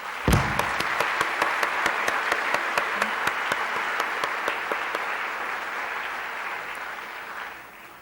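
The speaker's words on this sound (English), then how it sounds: "I would just like you all to acknowledge by a round of applause the Salisbury University folks who work behind the scenes" An audience in a lecture hall breaks into a round of applause at a university lecture series, a broad wash of clapping that starts sharply, holds steady for several seconds and tapers off toward the end.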